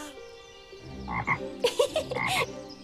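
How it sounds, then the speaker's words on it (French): A cartoon frog croaks close by in a series of short, throaty, rasping calls that grow louder toward the end. "Perdu, c'est une grenouille."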